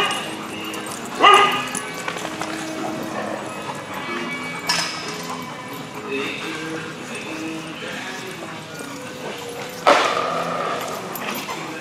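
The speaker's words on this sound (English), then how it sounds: "What is he barking about now?" A dog barks a few times amid a busy, cluttered background, with a couple of sharper yelps standing out over ongoing noise and faint voices.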